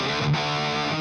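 Electric guitar played through a Two Notes Revolt tube preamp, a single sustained distorted chord ringing steadily for about a second with rich, dense overtones.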